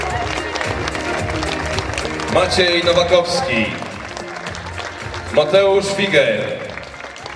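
Applause and some cheering from the audience at a 2014 sports gala in Lubawa as nominees are called forward. The clapping runs steadily under a presenter reading names over a loudspeaker.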